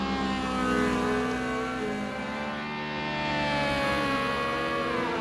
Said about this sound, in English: the VTEC is kicking here on the Honda Civic